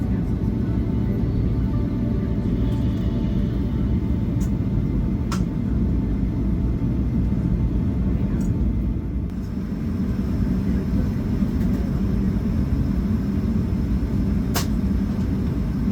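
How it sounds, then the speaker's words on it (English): Delta Boeing 757-200 airliner taxiing to the runway at Atlanta, a steady loud engine rumble and cabin hum heard from inside, with a few faint clicks and knocks over the drone. "As we taxi to the runway"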